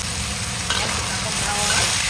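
Salted preserved vegetables stir-frying in a hot pan, a steady sizzle with a brief louder crackle and scrape as they are tossed, continuous and close.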